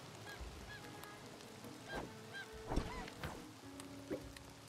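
Chickens in the open-world game Craftopia cluck and squawk in scattered short calls over a steady rain-like background hiss, fairly faint and without talk.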